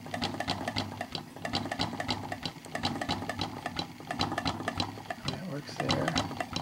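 Crank and crank assembly of an 1879 B. Eldredge automatic sewing machine, clicking and clattering in a busy rhythmic run of short mechanical ticks, close up, with faint voice-like sounds mixed in.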